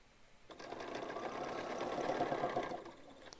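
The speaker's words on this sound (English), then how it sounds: "You're stitching with 1/4 of an inch seam allowance, and then you could also assembly line sew a bunch of these." A sewing machine runs in one steady, continuous burst, stitching quilt pieces with a quarter-inch seam allowance, close by and alone.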